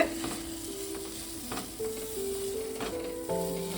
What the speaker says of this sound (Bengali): এবার আমি উচ্ছেটা ওর সঙ্গে দিয়ে দেব। দিয়ে আবার একটু ভালো করে নেড়ে